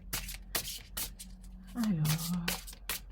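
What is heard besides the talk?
tarot cards being shuffled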